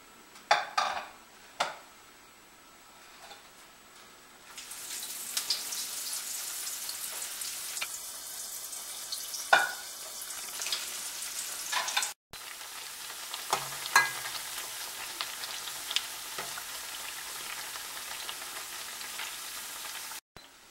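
Small pieces of bread deep-frying in oil for bread halwa: faint clinks at first, then a sudden bright, hissing sizzle that runs steadily under occasional utensil taps and stirring, with a brief cut near the middle and no talking.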